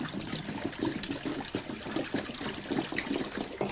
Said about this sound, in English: Add water to both tanks and see what happens.